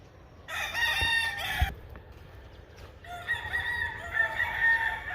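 Fighting cocks crowing loudly nearby, two long strained calls separated by a short pause, with faint clucking in between.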